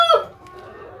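A single short, fairly loud squawk comes from a chicken suffering from ngorok, a snoring respiratory illness, and fades quickly into a quiet room.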